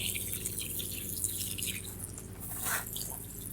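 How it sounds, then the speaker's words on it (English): Water drips and trickles steadily into potted plants as they are watered in a greenhouse. The splashing is close and continuous, with a brief louder gush near the end. "So we're just going to water each one of these."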